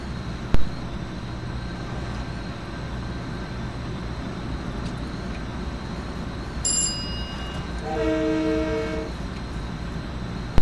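An MTA LIRR M3 electric train departs New York Penn Station bound for Hicksville, its steady low rumble and hum filling an underground platform, with a sharp clank near the start, a brief high beep and a short tonal chime toward the end.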